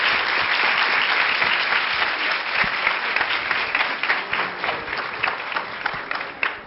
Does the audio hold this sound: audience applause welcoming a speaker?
yes